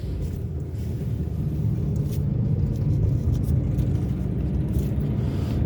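Car driving north along the M4 highway in Cape Town on a Saturday morning, a steady, close road rumble of engine and tyres that holds level throughout with no voices.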